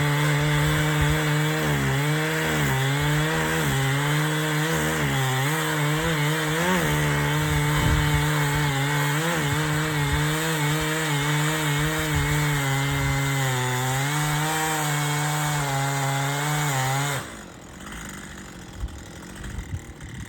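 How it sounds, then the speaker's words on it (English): A chainsaw with a freshly sharpened chain runs and cuts wood during outdoor tree work, a loud close buzzing whine whose pitch bogs and recovers under load, then cuts off abruptly near the end. "the saw's running and cutting good again"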